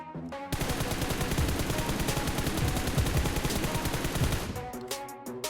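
Rapid automatic gunfire from a weapon fired while aiming down sights in PUBG Mobile, a dense continuous burst lasting several seconds with brief quiet before and after, loud and close.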